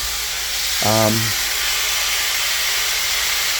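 A short burst of air blown through a ground and smoothed metal engine part in a racing shop, heard as a brief rushing whoosh with a hollow, whistling tone over a steady background hiss.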